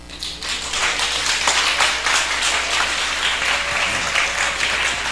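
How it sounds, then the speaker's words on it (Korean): A room full of people at a church Sunday afternoon service applauds warmly, dense clapping that holds steady throughout. "다시 한번 뜨겁게 박수 주시기 바랍니다"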